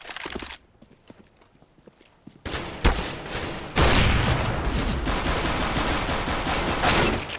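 Rapid CS:GO deathmatch gunfire rattles in dense, loud bursts, sparse at first and then nearly continuous, close and overlapping.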